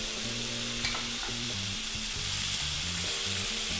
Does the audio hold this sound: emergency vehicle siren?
no